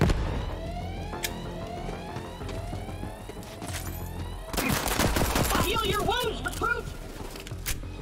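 Weapon fire in the looter-shooter Borderlands 3 cracks in rapid bursts while laser-like sweeping effects and sirens swirl around, ending with a dense barrage of shots and warbling tones.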